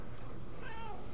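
A single drawn-out meow from the player's cat in the video game Cat Simulator rises over a constant background hum and noise.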